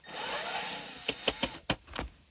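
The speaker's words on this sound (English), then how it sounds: "It just screws out real quick." A screw being backed out of the roof vent on a 2020 Winnebago 2306BHS RV: a soft steady rubbing, then a few sharp close clicks and squeaks in quick succession.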